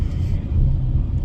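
Inside a car on the 110 freeway through downtown Los Angeles in heavy traffic, a low, steady road rumble and engine drone fills the cabin with no voices.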